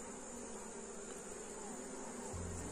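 Honey bee swarm buzzing steadily and densely throughout, close and continuous, with a low hum rising near the end, during hive splitting and queen rearing work.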